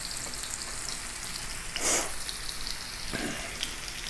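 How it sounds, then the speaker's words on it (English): A thick steak for steak au poivre searing in a hot pan, giving a steady close hiss of frying with two brief louder sizzle bursts as it settles; no one speaks. "I'm going to put the steak in"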